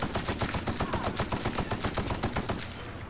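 Rapid automatic gunfire in The Outer Worlds, a steady run of close, loud shots over about two and a half seconds before tailing off.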